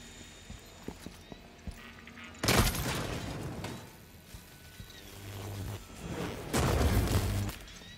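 Gunfire in the video game Deathloop: a few sharp isolated shots early, then two heavy booming bursts with roaring tails, separated by a quieter stretch of rumbling noise.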